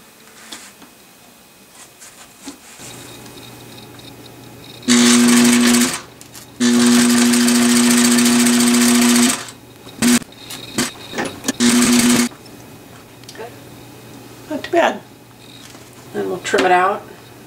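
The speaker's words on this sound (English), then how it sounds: "Now it's time to assemble the neck curtain." Sewing machine stitching a helmet neck curtain in several loud close bursts of rapid whirring stitches separated by pauses, with a low motor hum and short handling noises between runs; talk is heard near the end.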